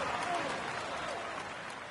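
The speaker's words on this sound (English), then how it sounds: "Come on, let's applaud him once more." A roadside crowd at the Tour de France 2019 applauds the polka dot jersey winner, a continuous wash of clapping that fades slightly toward the end.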